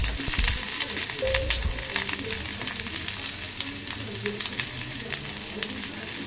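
Chopped onions added to hot oil for a Hyderabadi-style fish curry, a loud continuous close sizzle with a burst at the start and occasional stirring scrapes throughout.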